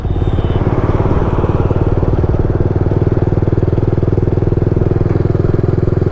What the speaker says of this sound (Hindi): तो अब मेरी बाइक सिक्स्थ गियर में है